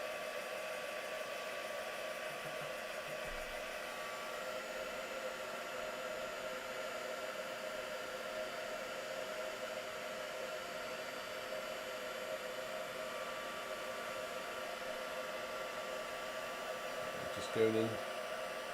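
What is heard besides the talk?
heat gun used for heat embossing card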